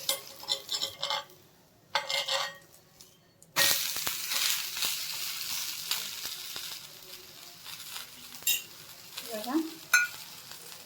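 North Karnataka thalipattu fries in oil on a pan, a steady low sizzle broken by sharp clatters of a utensil against the pan and a few scraping strokes, with no talk.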